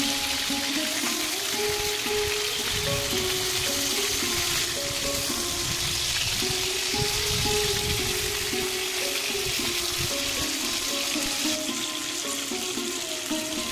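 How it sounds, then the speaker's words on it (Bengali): Steady, dense sizzling of katla fish pieces frying in hot oil, continuous and close, with a faint tonal hum running underneath and no talking. "এবার উল্টো পিঠটা আমি হালকা করে ভেজে নিচ্ছি"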